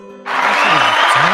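A small group claps together in a casual talk-show setting, starting after a brief lull and holding as a steady, dense patter of hands. Voices mix in underneath.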